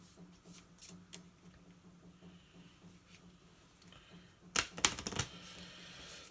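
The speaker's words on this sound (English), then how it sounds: "And then quickly you're going to have to shuffle." Cards riffle-shuffled for a tabletop card game, a quiet patter of light taps followed by a louder, denser fluttering burst near the end, close and with no talking.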